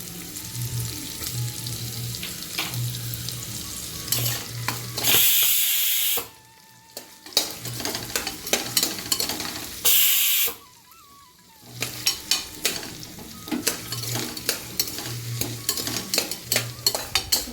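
Vathakuzhambu rice mixture with tamarind water sautéing in a pressure cooker, a spoon scraping and stirring in quick close strokes over a steady sizzle, with two brief loud hissing bursts.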